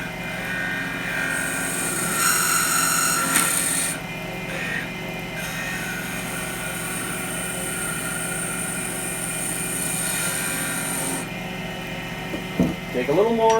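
A wood lathe spins while a parting tool and skew chisel cut the turning wood, a steady whirring hum with a high whining cutting tone that rises and fades in stretches, close and continuous.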